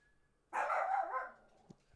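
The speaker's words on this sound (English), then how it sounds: "She's barking again." A dog lets out a single drawn-out bark that trails into a whimper, fairly close and alone against a quiet room, followed by a faint click.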